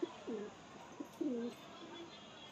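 A male pigeon in a loft coos softly up close, two or three low throaty coo phrases separated by short pauses against quiet background noise.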